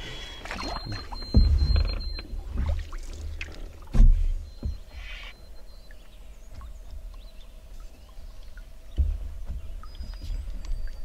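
A canoe paddle dips and pulls on a quiet wilderness lake, giving a few hollow splashes and knocks against the hull a few seconds apart over calm ambient water, with no speech.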